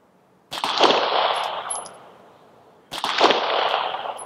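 Two sharp gunshots, a couple of seconds apart, fired at a quarter-inch steel target 25 yards away. Each report is loud and close with a short trailing decay, and there is quiet between them.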